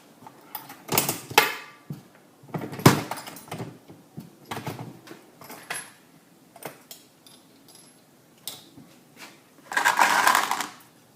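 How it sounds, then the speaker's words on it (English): A Dillon 550B reloading press seats bullets into casings at the bullet station, giving a run of sharp clacks and mechanical thunks at irregular intervals, near and fairly loud, ending in a longer rattling burst. "This will take and press the bullet in to the correct depth."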